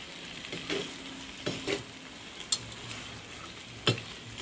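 Ginger garlic paste frying with country chicken in a pan for a village-style curry, a low sizzle broken by several distinct stirring scrapes and clacks spaced a second or so apart.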